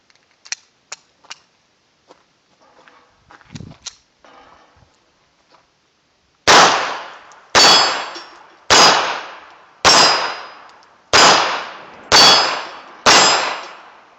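Lorcin L380 blowback .380 pistol firing, with the last round failing to eject: six loud sharp gunshots fall about a second apart, each ringing out and decaying. Faint clicks and handling of the magazine and gun come before them.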